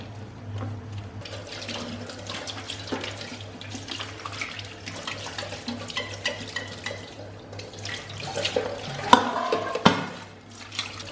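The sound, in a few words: washing dishes with running tap water in kitchen sink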